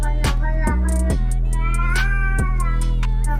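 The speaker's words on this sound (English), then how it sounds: "It's a video of a cat making puking noises," A cat recording remixed into a song: loud, pitched meow-like cries stretch and bend over a steady musical backing, with sharp retching-like bursts recurring at intervals.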